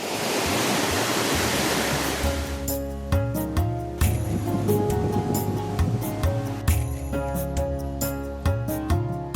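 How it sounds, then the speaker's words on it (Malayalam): Aruvikkachal waterfall in Kottayam plunging from about eighty feet, a loud, continuous rushing roar of falling water with no voices. "എൺപതടി ഉയരത്തിൽ നിന്ന് ഒഴുകി താഴേക്ക് വീഴുന്ന വെള്ളച്ചാട്ടം അതിമനോഹര കാഴ്ചയാണ്"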